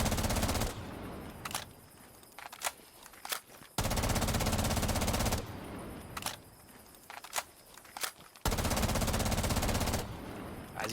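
Automatic rifle fire at a wall in Rainbow Six Siege comes in three long, loud sustained bursts, with quieter gaps between them holding scattered clicks and clatter.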